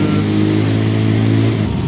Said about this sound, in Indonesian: di bagian sini berisik di bagian CVT.